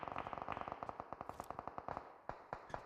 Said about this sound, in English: Maniac and Dokuma taking shots across the way